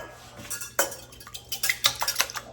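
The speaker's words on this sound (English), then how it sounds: "I'm gonna whisk these eggs together." Four eggs are whisked together in a bowl with a metal utensil, giving a quick run of light clinks and scrapes against the bowl that grows busier toward the end, close up and fairly quiet, with no speech.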